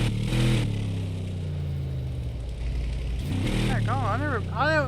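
A Ford Taurus engine in Car Mechanic Simulator 26 rumbles and revs under someone talking, with a brief clatter partway through.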